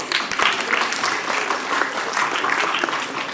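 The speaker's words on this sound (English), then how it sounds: "Please clap for him." Audience at a quiz competition grand finale gives sustained, lively applause, many hands clapping densely and fairly loudly for the whole stretch.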